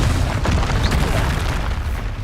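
A Confringo blast spell explodes in the Hogwarts Legacy video game, a loud, dense rumbling boom that rolls on without a break from start to end, with no clear pause.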